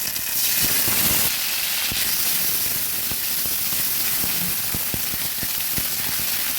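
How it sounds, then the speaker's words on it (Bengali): Ginger paste with a splash of water hitting hot oil tempered with panch phoron, a loud hiss and sizzle at first that settles into steady crackling and small ticking pops, close and without speech. "এবার আমি দিয়ে দিচ্ছি আদা পেস্ট হালকা একটু জল দিয়ে দিচ্ছি"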